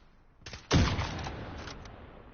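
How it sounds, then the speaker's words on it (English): Burst of gunfire in the battle royale shooter Warzone, a sharp loud onset followed by a dense rattling volley that fades over about two seconds, heard alone without talk. "Where was this firing coming from?"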